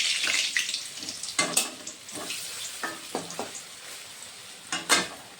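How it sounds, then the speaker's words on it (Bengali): Banana kofta frying in hot oil gives a steady close sizzle and crackle, broken by a few sharp utensil clinks and stirring scrapes. "একটু লাল লাল করে ভাজতে হয়, তখন ভালো লাগে কলাটা খেতে"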